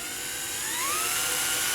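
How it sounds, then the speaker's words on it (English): A 1/16-inch drill bit bores into thin automotive sheet metal during a Ford Focus ST wing install, a steady high whine that rises slightly in pitch as it cuts, close and loud with no talking. "I like drilling sheet metal really small to start"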